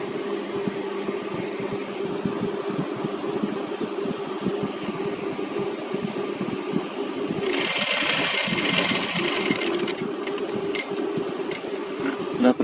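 An electric sewing machine stitches along a fabric edge with a fast, even mechanical whirr and needle chatter that runs steadily and grows louder and busier partway through before easing off.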